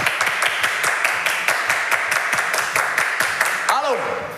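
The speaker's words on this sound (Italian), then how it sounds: "Applauso!" A studio audience on an Italian morning TV show claps in a steady rhythmic patter, loud and close, with a voice speaking over the applause near its end.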